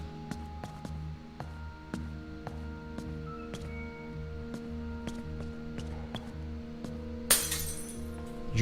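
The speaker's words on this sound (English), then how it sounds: "So glass breaking." In the horror video game The Coma 2: Vicious Sisters, glass suddenly shatters loudly near the end, breaking through a quiet backdrop of game music and soft ticking sounds.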